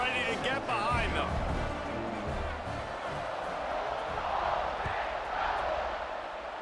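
Steady crowd roar from a tied fourth-quarter kickoff in an EA Sports football video game, a dense wash of cheering that holds at an even, moderately loud level with small swells throughout.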